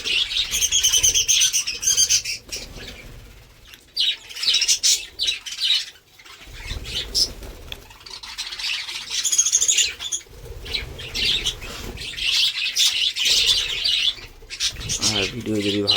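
A flock of birds being fed, including pigeons or doves, chirps and tweets in busy overlapping bursts, with wing flaps and cooing, close by, while someone talks intermittently.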